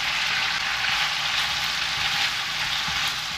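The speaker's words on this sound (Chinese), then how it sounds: "就爆香啲薑片同埋小米椒" Ginger slices and small hot chillies sizzle in a pan beside browned chicken for pineapple braised chicken, a loud, unbroken frying hiss held close throughout.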